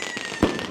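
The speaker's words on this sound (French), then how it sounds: "chaque famille vient avec des tonnes de feux d'artifice" A firework bangs once, sharp and close, during Chinese New Year celebrations in Wenzhou, over a steady crackling background.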